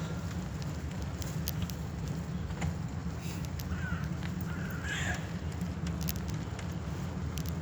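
Birds in a park give a few faint, short caws in the middle, set against a steady, loud outdoor rumble of background noise.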